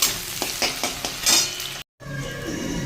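Onions fry in hot oil for Bengali mutton kosha, a loud close sizzle with rhythmic stirring scrapes, a brief silent break, then steady crackling resumes.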